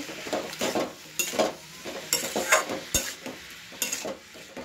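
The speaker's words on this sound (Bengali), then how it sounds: "মশলাগুলো দিয়ে ভালো করে নেড়ে নেব" Spoon scraping and stirring spices in a frying pan with bottle gourd, potato and a fish head, steady rhythmic strokes with a light sizzle underneath, close and moderately loud, no talking.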